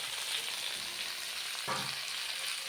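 Onions browning in hot oil in a pan, cooked for a Bengali rui fish curry with drumstick, give a steady, soft sizzle throughout, with a brief stir or scrape partway through and no talking.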